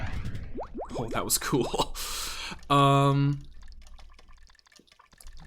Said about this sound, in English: the sound of running on water in this game cracks me up